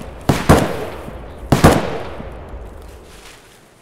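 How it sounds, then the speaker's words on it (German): Two sharp gunshot bursts from the shooter game Escape From Tarkov, about a second apart, loud and close with a short echoing tail fading into quiet. "hier wird geschossen."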